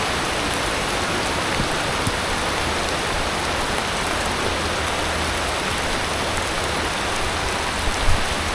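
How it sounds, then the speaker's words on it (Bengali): Boishakh rain falls steadily across the Bangla Academy grounds during a walk, a loud, dense, unbroken hiss of drops with a faint knock near the end. "এই যে বৃষ্টির সাথে হাঁটতেছি"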